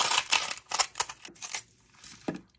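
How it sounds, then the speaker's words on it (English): Scissors snipping through a small piece of styrofoam, a series of crisp, close cutting crunches in an uneven rhythm, with the last cut coming after a short pause. "Now I'm going to take my scissors and just cut a little piece of styrofoam."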